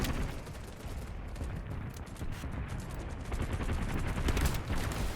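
Groza rifle fire in the shooter game BattleBit Remastered, rapid bursts of gunshots amid busy battle noise, steady and fairly faint with no talk.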